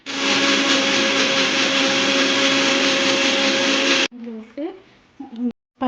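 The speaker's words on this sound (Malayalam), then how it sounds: "ജീരകം ഇവ ചേർത്ത് നല്ല പോലെ അരച്ചെടുക്കണം" A mixer grinder grinding cumin into a paste runs with a loud, steady, high-pitched whine for about four seconds, then stops, and a voice speaks briefly afterward.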